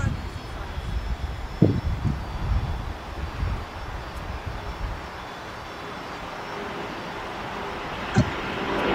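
An ANA cargo plane departs runway 25 at LAX, bound for Tokyo, its engines a low, steady distant roar that gradually eases away, with faint voices in the background.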